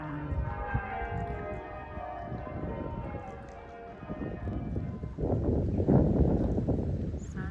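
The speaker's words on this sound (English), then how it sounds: "So the bells have stopped on the church" Church bells ringing with a rich, layered tone that echoes, alongside rustling and scattered outdoor noise, heard from a canal.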